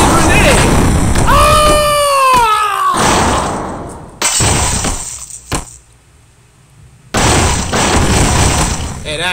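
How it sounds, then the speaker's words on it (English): A grenade explosion in the fighting video game SuperFighters, a loud burst with crashing, breaking debris amid chaotic game noise, while players shout and talk excitedly over it. "He threw the freaking grenade."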